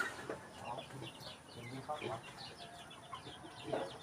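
Backyard chickens clucking and murmuring nearby, soft repeated clucks scattered across a steady outdoor background hum, with faint voices in the mix.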